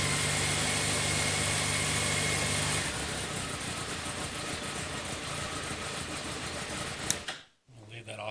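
A Honda Hornet 599 motorcycle that had sat unused for a while idles steadily close by. It starts with a dense, even rumble and settles into a slightly lower, rougher idle, then cuts out briefly near the end before resuming.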